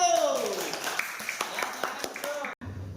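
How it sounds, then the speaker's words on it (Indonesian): A classroom of primary pupils claps for a presenting group, a burst of scattered handclaps with a teacher's voice over it, ending abruptly. "tepuk tangan untuk kelompok 1"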